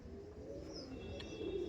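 An Andhra pigeon gives a faint, low, drawn-out coo at close range against a quiet background, with a soft chirp-like note near the end.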